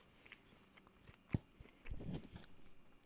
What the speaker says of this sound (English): Me chewing on one of Kale's legs.